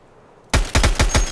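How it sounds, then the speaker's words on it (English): Bursts of automatic gunfire returned in Escape From Tarkov, five loud, close, evenly spaced volleys erupting after a quiet lead-in. "We return fire on those"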